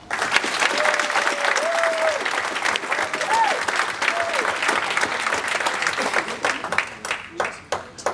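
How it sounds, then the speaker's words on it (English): A room applauds the Dubuque Miners football players at a signing day, steady clapping from a crowd with a few voices calling out over it, thinning toward the end. "round of applause for the players"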